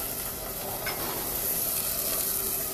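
Carrots, potatoes, red onions and celery sizzle steadily in a hot soup pot with salt, a continuous close hiss of frying with faint stirring and no talk.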